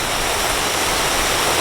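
Hotel pool waterfall at the Hilton Playa del Carmen, a steady, loud rush of water splashing continuously, with no voices.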